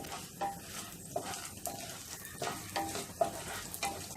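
Mustard seeds, cumin and a broken dried red chilli fry in hot oil for a tempering, with close, uneven crackles and spattering bursts over a low sizzle, no voices.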